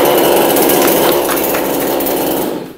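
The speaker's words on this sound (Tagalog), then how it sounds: "Ito po yung order po ninyo na powerhouse petrol chainsaw." A Powerhouse petrol chainsaw runs loud and close, giving a steady, dense buzzing roar for a few seconds before it cuts off abruptly.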